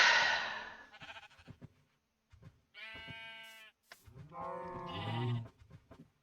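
Sheep in Minecraft bleat a few times in short, wavering cries, separated by brief pauses and soft clicks, fairly close and clear.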